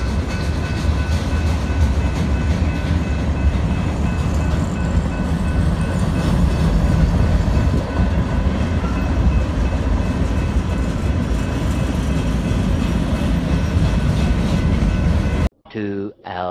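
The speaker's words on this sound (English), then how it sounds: "When you're in a semi-hurry to get somewhere, you're gonna come across a choo-choo." A passing train rumbles loudly and steadily close by for about fifteen seconds, with rail clatter and wind noise, heard from inside a waiting vehicle before cutting off abruptly.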